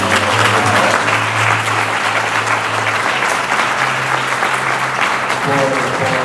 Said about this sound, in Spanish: un fuerte aplauso para Alex